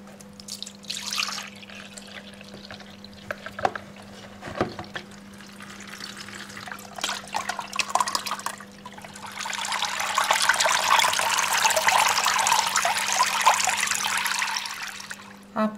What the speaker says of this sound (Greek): Τώρα θα σουρώσουμε με ένα τουλπάνι το νερό σε μία λεκάνη.